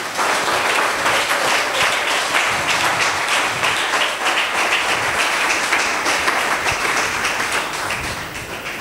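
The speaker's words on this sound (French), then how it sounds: "Est-ce qu'on peut acclamer?" A church congregation breaks into loud, sustained applause and cheering, a dense wash of clapping that holds steady for nearly nine seconds before easing slightly at the end.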